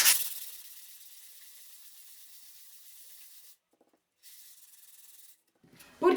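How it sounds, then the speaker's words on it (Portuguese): Iron 80-grit sandpaper rubs over a fake cake coated with leveling base. A close, steady scratchy hiss runs for several seconds, pauses briefly, then resumes for a shorter stretch. "Venho agora com uma lixa 80 de ferro, tá? Não é mais a de madeira. E vou lixar."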